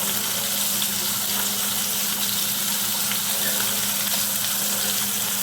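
Mushrooms frying in a pan, a steady loud sizzle with hissing crackle and a low hum underneath, continuous and close without pause.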